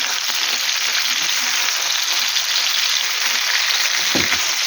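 Chopped onion sizzles and fries steadily in a pan with eggplant and bell pepper while being stirred, a loud, close, continuous crackle with a soft scrape near the end and no talking.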